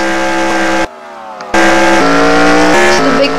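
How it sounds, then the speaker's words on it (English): A NASCAR race car roars out of the pits, its engine loud and close, cut by a brief gap before the engine note returns and climbs through rapid gear changes. "Can Morena get off the pits? He has to get up to speed quick."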